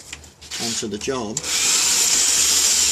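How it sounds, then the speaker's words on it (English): Flap disc on a drill sanding a part for a Terminator T800 build, someone speaking briefly before the tool spins up into a loud, steady high whirring grind that continues to the end. "once I actually get that spinning, okay, that flapping disc sort of spreads out, and I can have a very controlled sanding"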